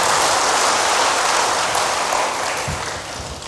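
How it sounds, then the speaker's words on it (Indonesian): Church congregation applauding during a New Year's Eve service, a dense, steady wash of clapping like heavy rain that holds loud for most of the stretch, then eases off slightly near the end. "Yang mau berikan tepuk tangan bagi Tuhan"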